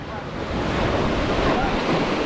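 Seawater surges against the hull of a boat at a large reef off Bahia, a loud, continuous rushing wash of waves mixed with wind noise.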